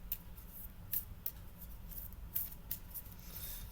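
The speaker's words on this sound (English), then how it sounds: "we're only going to pull one card off of this top deck after I shuffle it" A deck of tarot cards being shuffled up close, with a few crisp riffling bursts over a low steady background hum.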